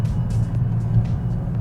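A 2019 McLaren 570S engine drones with a deep, steady low rumble as the car accelerates, heard briefly and moderately loud with faint road noise above it.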